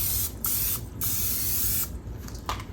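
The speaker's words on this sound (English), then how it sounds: "I am going to spray this pan because you do not want it to" Short hissing bursts of cooking spray coating a 9 by 13 inch baking pan for chess bars, several close sprays with brief pauses between them, no talking.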